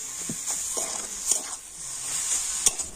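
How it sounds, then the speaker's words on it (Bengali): A spoon stirs spiced cabbage paratha filling with roasted cumin and coriander powder in a hot pan, making irregular scraping strokes and clinks over a continuous soft sizzle. "আর এখন আমি সমস্ত কিছু খুব ভালো করে এইভাবে মিশিয়ে নেব"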